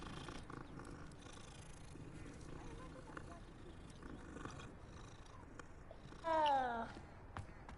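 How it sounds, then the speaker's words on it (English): A cat purrs softly as it is petted in Hogwarts Legacy, a low continuous rumble beneath game ambience, followed by a brief clear meow near the end. "Pet the cat."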